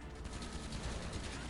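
Vehicle-mounted cannon and miniguns firing in a video game, a continuous rattling barrage that stays faint and distant throughout.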